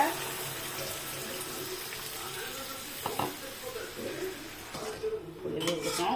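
Water pours steadily into a pot of sautéed fish curry base, mixing with a bubbling sizzle and a few clinks, while a voice talks faintly in the background.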